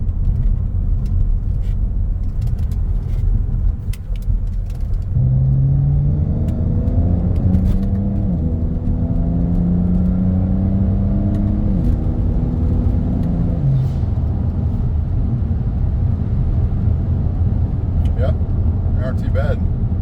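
A BMW 335i with the N54 engine on Bilstein coilovers is heard from inside on a test drive: a steady low road rumble, then the engine revs up through several rising gear pulls before settling back to cabin drone.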